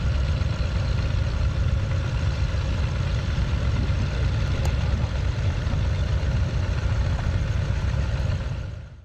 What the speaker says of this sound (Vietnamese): tiếng máy nổ đinh tai nhức óc của hai tàu hút cát ngay sát bờ biển